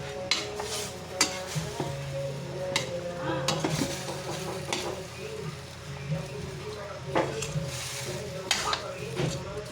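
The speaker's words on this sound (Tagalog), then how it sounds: "At atin pong hahaluin" Pinakbet vegetables in coconut milk stirred in a pan, a spoon scraping and clinking against the pan in an irregular rhythm over a soft steady simmer, with occasional speech nearby.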